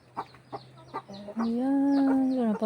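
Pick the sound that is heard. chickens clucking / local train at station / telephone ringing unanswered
chickens clucking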